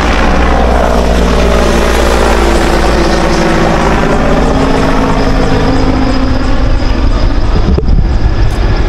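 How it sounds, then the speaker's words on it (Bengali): A helicopter flies overhead near Tejgaon airport in Dhaka, its loud, steady rotor and engine roar filling the whole stretch, with no talk over it. "Sorry helicopter."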